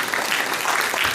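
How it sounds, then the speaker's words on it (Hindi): A crowd applauding at a motivational speech, dense clapping hands forming a brief, steady burst of applause at moderate loudness. "ताली बजाओ।"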